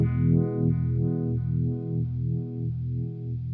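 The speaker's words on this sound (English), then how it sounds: "So with the Goodvibes you get that quite aggressive stuttering, and I think that's due to the photocell part of the circuit" An EHX Goodvibes pedal puts an aggressive stuttering vibe on a sustained guitar chord, the tone pulsing in a steady throbbing rhythm about three times a second, clear and alone.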